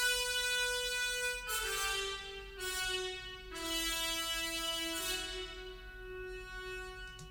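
Orchestral horn mockup built from sample libraries, with sustained brassy chords changing several times in a slow phrase, full and resonant, over soft low accompaniment, with no talking.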